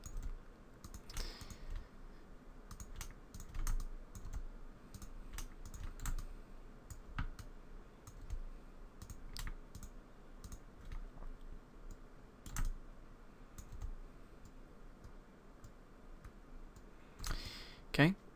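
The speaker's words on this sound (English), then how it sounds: "I do apologise if the sound of my keyboard is annoying. It's a mechanical keyboard, so it's pretty loud." Rapid clicks of a loud mechanical computer keyboard being typed on, close and irregular with bursts and pauses, interspersed with mouse clicks and occasional low murmurs of a voice in a quiet room.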